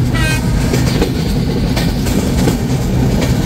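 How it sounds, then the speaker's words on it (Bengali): The Bangla Bandha Express locomotive pulls away for shunting at a Bangladesh station, a loud, close diesel rumble with rolling clatter from the wheels. "এই তো বাংলা বান্ধার লোকোমোটিভ কিন্তু চলে যাচ্ছে শান্টিংয়ের উদ্দেশ্যে।"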